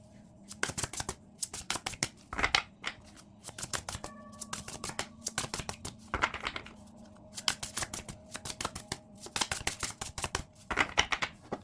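Tarot cards being handled and shuffled, crisp rapid riffling bursts in quick clusters with short pauses between, close and fairly quiet, no talking.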